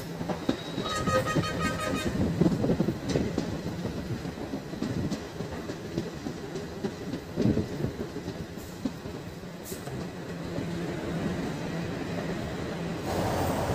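The Thirupathi Express runs along the rails with a rumbling roll, rhythmic clickety-clack of wheels and brief high squeals, heard from on board at moderate loudness.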